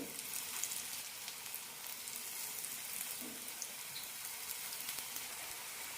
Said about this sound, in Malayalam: എണ്ണ ചൂടായിട്ടുണ്ട് ഷാലോ ഫ്രൈ ആണ് ചെയ്യാൻ പോകുന്നത് ഡീപ് ഫ്രൈയും ചെയ്യാം